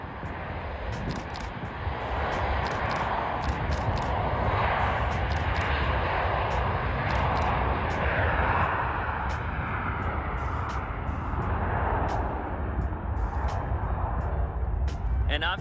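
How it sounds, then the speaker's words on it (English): An American Airlines Airbus A321 jet with IAE engines spools up for takeoff at Sacramento airport, a loud, broad roar building after a quieter start and holding steady, with sharp clicks and a voice heard faintly over it. "it was time for the American Airlines Airbus AC-21 November 917 Uniform Yankee to begin her takeoff, heading out to Dallas."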